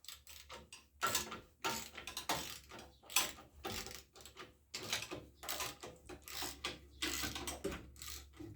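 Spring hardware on a two-wheel-drive Chevrolet S10 pickup is tightened with a hand ratchet, giving repeated bursts of quick clicking and mechanical clatter with short pauses between them, close and fairly quiet.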